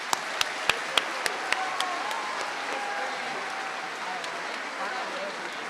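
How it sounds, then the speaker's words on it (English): Audience at a promotion ceremony claps, opening with a few sharp rhythmic synchronized claps before settling into a sustained, even round of applause from a moderate crowd, with faint voices underneath. "Let's give them all another round of applause."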